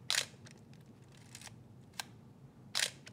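A Minolta XE 35mm SLR's film advance lever is worked, giving a few light ratcheting clicks and short mechanical scrapes at uneven intervals, close and isolated in a quiet room.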